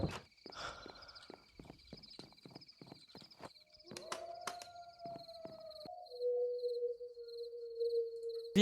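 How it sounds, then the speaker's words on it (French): Footsteps in the video game From the Fog tap in a steady, regular rhythm of soft thuds for a few seconds, then fade as a low sustained tone takes over, with no talk. "J'entends des bruits de pas."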